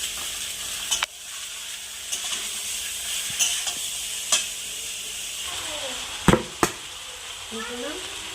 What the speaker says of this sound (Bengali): চালটাকে আমি একটু ভাজা করে ভেজে নেব।